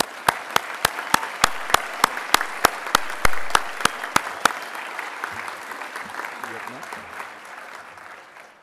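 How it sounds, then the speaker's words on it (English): Conference hall applause for newly named fellows, set against a run of sharp, evenly spaced percussive hits that stop midway; clapping then thins out and fades. "let's all give a final round of applause to our new fellows"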